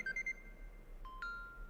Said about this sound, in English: immediately I will get a notification with loud alarm notification like this